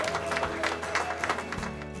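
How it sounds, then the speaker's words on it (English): A crowd at a Pride Month kickoff applauds award recipients with a dense patter of clapping, partly under a voice. "Local pioneers for LGBTQ rights were recognized with awards and applause."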